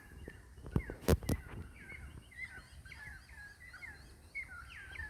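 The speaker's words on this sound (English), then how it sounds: "They're currawongs." Several loud, descending currawong calls ring out over a quiet outdoor background, with two strong bursts early, then repeated melodic calls at a moderate distance.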